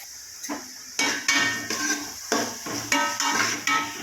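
Crushed ginger and garlic stirred in a pan for chicken curry, with a spoon repeatedly scraping and clanking against the metal in a steady rhythm, a faint sizzle underneath, no voices.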